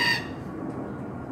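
A loud bird calls at close range in Kowloon Park, Hong Kong, with a harsh, harmonic cry in the first fifth of a second, then trailing off into a steady rumble of park background noise.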